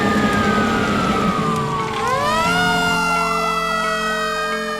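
An ambulance responding code 3 with its siren wailing loud and close, the rising and falling tone shifting into a rapid yelp, alongside other emergency units en route.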